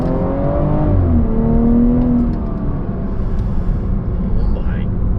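BMW F30 340i with an XHP stage 2 tune pulling away and accelerating, engine tone rising steadily from inside the cabin, with a person talking over it.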